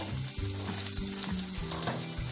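Onions sizzling and frying in a pan, a steady crackling hiss with rhythmic stirring scrapes repeating every half second or so.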